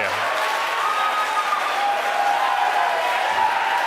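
Steady applause and cheering from a launch team celebrating a SpaceX Starlink satellite deployment, continuous and fairly even, with a faint murmur of crowd noise beneath it.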